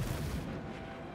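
A unit firing in the video game Total War: Warhammer III lets out a loud, booming volley that rumbles and then fades within about a second, with no talking.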